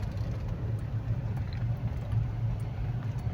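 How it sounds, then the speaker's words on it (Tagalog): Road traffic crawls through Libis, heard as a steady low engine rumble and drone of nearby vehicles, continuous and moderately loud with no talk. "Traffic talaga dito sa Libis."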